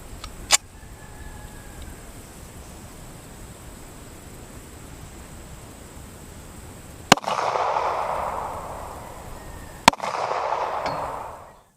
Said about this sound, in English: shot the 45 ACP jacketed hollow point